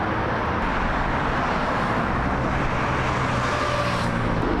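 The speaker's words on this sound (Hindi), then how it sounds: "वैसे गाड़ियों का शोर बहुत है" Road traffic in Dubai: a continuous roar of cars passing nearby, with engine hum and tyre noise blending into a dense, unbroken wash.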